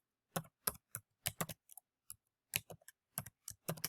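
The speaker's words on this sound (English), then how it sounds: "So let me type this one in." Typing on a computer keyboard to enter a math expression: short bursts of crisp key clicks in irregular clusters, close and fairly quiet, with brief pauses between groups and no voices.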